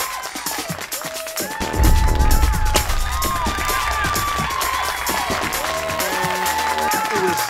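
A crowd cheers and claps after a card trick, the excited shouts and applause mixing with overlapping voices and a low rumble midway.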